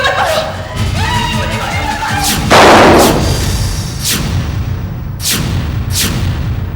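A single sharp, loud gunshot bursts out in a tense scene from the Indian crime drama CID, followed by lighter clicks and knocks, with voices and music around it.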